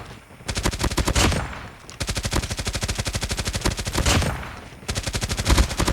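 Hades gun with the Heartseeker attachment firing in a ranked video game match, rapid automatic bursts of gunfire at a high fire rate in three long strings separated by brief pauses, loud and close.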